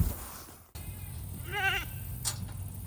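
A single wavering goat bleat rings out near and fairly loud amid outdoor background noise, with a brief rustle afterward.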